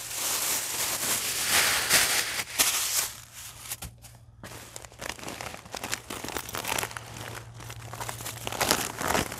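A vinyl golf cart enclosure for a Club Car DS is unwrapped with packing paper pulled out, giving continuous close crinkling, rustling and crumpling bursts over a low steady hum, with no talk.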